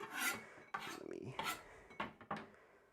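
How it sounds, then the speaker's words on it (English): A garlic clove scraped against a grater in a series of short, uneven rasping strokes, close and fairly quiet in a kitchen making Japanese hot pot, with pauses between passes. "I do want this intact so that I can grate it"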